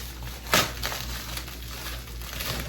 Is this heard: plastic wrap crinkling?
yes